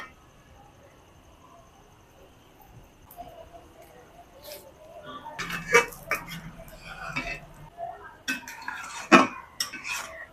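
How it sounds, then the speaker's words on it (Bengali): Raw mango pickle is stirred in a pan, starting quiet, then a cluster of metal utensil scrapes and clinks against the pan, close and intermittent, with a faint bubbling underneath. "এবার মাঝে মাঝে একবার করে নেড়ে দেবো পানিটাকে শুকিয়ে নেব"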